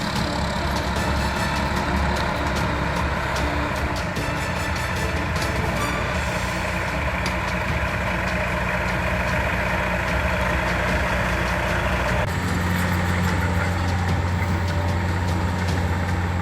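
Truck hauling a trailer up a muddy road toward its new home, a steady heavy engine drone with a constant mechanical whine, loud and close throughout, shifting to a lower idle tone partway through.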